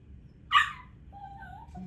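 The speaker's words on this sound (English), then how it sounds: "I may have to tend to my dog here in a minute." A dog gives one sharp, close yip followed by a thin, drawn-out whimper in a quiet indoor room.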